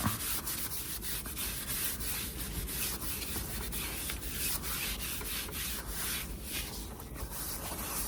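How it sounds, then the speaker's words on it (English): A wooden Christmas dough bowl is wiped down by hand, giving a steady, close rubbing and scuffing sound with regular strokes throughout and no voices. "Wipe it down a little bit."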